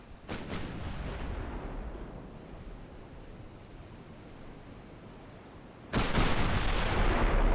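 A heavy cruiser's guns firing during a naval battle in Ultimate Admiral: Dreadnoughts, with several sharp booms at the start, a long roar of sea-like rumble, then a sudden loud blast of noise near the end.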